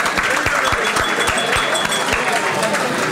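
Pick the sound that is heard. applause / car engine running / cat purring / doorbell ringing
applause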